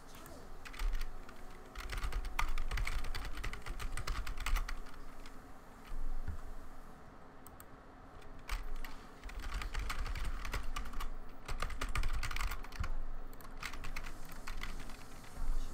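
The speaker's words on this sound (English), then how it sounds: "Keyboard that's like probably older than me, so yeah, it should sound better." Steady typing on an old computer keyboard, with dense key clacks in bursts and brief pauses, close and fairly loud throughout, no talking.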